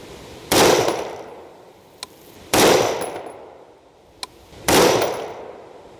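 Three loud, sharp rifle shots fired at a range through a Vortex Venom 5-25 FFP scope, starting with a sighter shot, evenly spaced about two seconds apart, with faint metallic clicks from the action between them.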